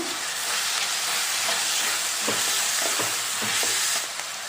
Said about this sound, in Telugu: ఇలా ఉల్లిపాయ ఫ్రై అయ్యేటప్పుడే ఒక 1/2 టీ స్పూన్ అల్లం వెల్లుల్లి పేస్ట్ వేస్తున్నానండి